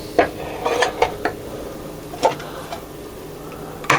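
An egg pan and other kitchenware are handled in a home kitchen, making a few sharp metallic clanks and clatters spread unevenly over a few seconds against a quiet background.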